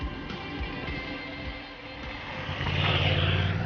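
A Moto Guzzi V85TT motorcycle rides along a rough gravel road, its engine droning steadily with wind and crunching from the track, the engine note swelling louder toward the end.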